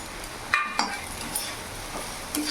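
Chhana (cottage cheese) being stirred in a pan for a potato and chhana curry, a few soft scrapes and clinks of the spoon over a steady faint background hiss, close and quiet.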